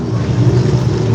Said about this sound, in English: Looks like he's got it fired up and running now.